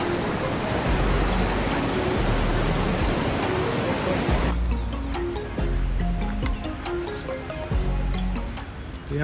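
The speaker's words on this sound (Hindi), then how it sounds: "तो काफ़ी पानी का फ्लो हो रखा है इस टाइम" A fast mountain stream swollen with snowmelt and monsoon rain rushes along a trek route to Madmaheshwar Temple, a loud, continuous roar of water that drops noticeably partway through, with no talk.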